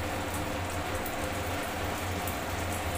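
Cabbage pakoras deep-fry in hot oil, giving a dense, even bubbling crackle that sounds much like steady rain and holds unbroken and close for the whole moment.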